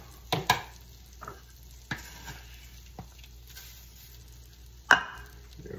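Homemade granola mixture is stirred in a bowl, producing a few sharp scraping and clattering strokes separated by quiet pauses, close and moderately loud.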